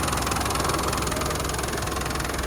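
A 1998 Land Rover Defender 90 with a 300TDI diesel engine idles indoors, giving a continuous, even clattering knock with a steady vibrating drone throughout.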